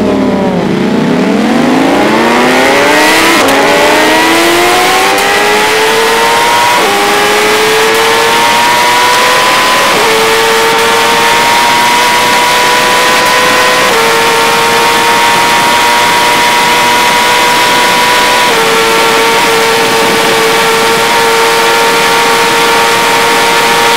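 A BMW M1000RR or Ducati Panigale V4 sport bike pulls away hard from a clutch start on the autobahn. The engine screams up through several gears, each shift cutting in briefly before the loud, close roar climbs again.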